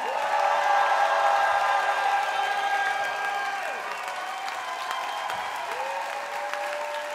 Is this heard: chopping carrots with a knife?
no